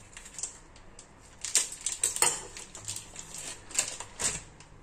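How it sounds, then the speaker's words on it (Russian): Crisp knife cuts slicing a sausage into rounds, tapping a board in a quick irregular series, several sharp chops close by with brief pauses between them. "И красиво ее нарезаем кружочками."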